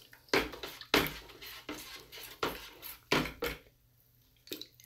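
Spoon or utensil stirring a strawberry mead mixture in a pot, giving repeated scraping and clinking strokes at close range in uneven bursts, with no talking.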